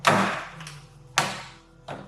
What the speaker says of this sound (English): we just got to pop the panel off